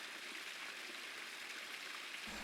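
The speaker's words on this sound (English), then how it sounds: "This is a tributary, spring-fed tributary of Prairie Creek that runs through the Nerstrand Big Woods State Park" A spring-fed tributary of Prairie Creek in the Nerstrand Big Woods woodland valley flows with a steady, even wash of water noise, faint and continuous without any break.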